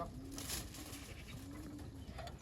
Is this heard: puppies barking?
no